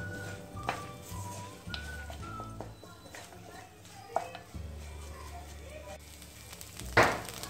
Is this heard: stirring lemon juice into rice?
yes